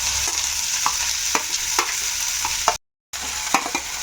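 Onion frying in oil in a home kitchen pan gives a steady, close sizzle, with scattered light stirring clicks throughout and a brief cut to silence partway.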